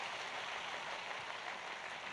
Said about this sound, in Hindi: जोरदार बजाओ ताली, जोरदार